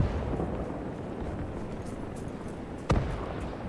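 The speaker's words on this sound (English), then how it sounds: "More explosions. I get very nervous every time a shell comes down nearby." Constant battle rumble from the WWII game Call to Arms: Gates of Hell, with a single sharp shell explosion landing near the end.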